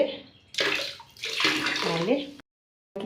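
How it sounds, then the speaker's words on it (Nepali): Hot water mixed with vinegar and baking soda is poured for washing about five kilograms of mangoes for pickle. Two splashy, gurgling pours are heard close up, and the sound cuts off abruptly. "सो मैले हालेँ तातो पानीमा।"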